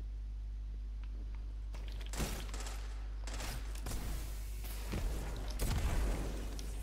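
A Wardcliff Coil rocket launcher fires a volley in the Destiny video game, followed by a series of loud, broadband explosive bursts spread over several seconds above a low background drone.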